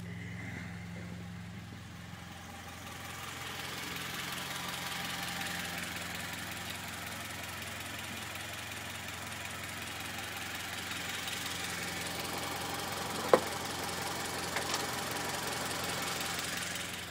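Honda Accord with an H22 Type R engine idling steadily, a low continuous hum with a faint knock-like texture running for several seconds, heard alone at moderate distance with one brief click partway through.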